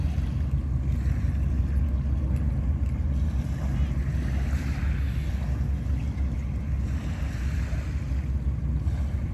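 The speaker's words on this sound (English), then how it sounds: "You hear engines just start up or rev up." A ferry departs at Lincoln Park with engines starting up or revving, a steady low rumble that fills the clip alongside water, waves and wind noise buffeting the microphone, continuous and fairly loud throughout.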